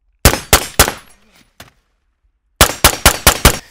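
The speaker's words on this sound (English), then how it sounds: "The tone of the Surefire suppressor is very pleasant. It's kind of a deep kind of baritone type tone." Suppressed gunfire through a Surefire SOCOM RC suppressor: three sharp, deep-toned reports in quick succession, a short pause and one fainter shot, then a rapid string of five more close, loud shots.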